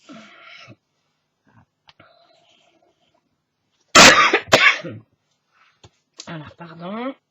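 A pair of loud, harsh coughs with a throat-clearing rasp from a scratchy, itchy throat breaks a near-silent stretch, followed shortly by a voice talking.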